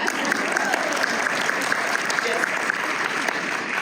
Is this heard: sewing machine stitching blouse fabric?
no